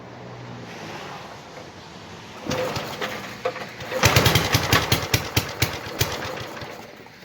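A Briggs & Stratton 8 hp engine being pull-started: rope-pull rasps and sputters, then the engine catches into a rhythmic chugging of repeated loud pops, close by.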